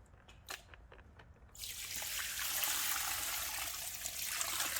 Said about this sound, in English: I'm just gonna put the water in.